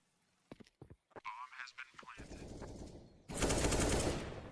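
Counter-Strike gunfire at a Dreamhack Masters qualifier match: a few sharp single shots first, then sustained rapid automatic fire that grows louder and denser toward the end, over game ambience.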